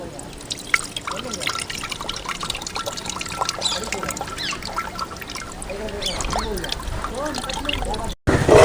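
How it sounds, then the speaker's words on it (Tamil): Liquid drips and trickles steadily as soaked tamarind is squeezed and strained for mango sambar, with a person talking throughout. "ஊற வச்ச புளியை நல்லா கரைச்சி எடுத்துக்கலாம் புளி வடித்து எடுத்துக்கலாம்"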